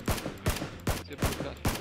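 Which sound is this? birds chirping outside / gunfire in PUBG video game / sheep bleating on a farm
gunfire in PUBG video game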